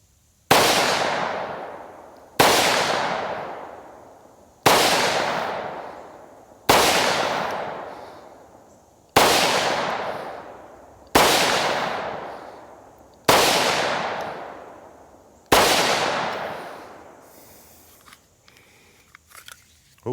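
Eight loud, sharp gunshots from a Hi-Point YC9 9mm pistol at an outdoor range, fired at steady intervals of about two seconds. Each crack is followed by a decaying echo, and faint handling clicks follow the last shot.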